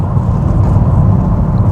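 A Volvo V70 on the move gives a steady, loud low road rumble and engine drone from inside the cabin, even and continuous, with no voices.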